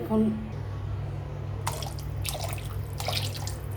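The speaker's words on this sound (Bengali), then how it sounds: "আমি একটু গোলাপ জল দিয়ে দিব" Rose water poured into a pot of egg biryani splashes and trickles in a few soft bursts over a steady low background hum.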